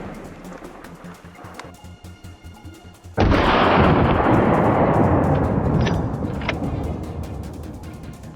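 A single rifle shot at a wild boar in a snowstorm, a sharp loud crack that booms and rolls away in a long decaying echo after a stretch of quiet rustling.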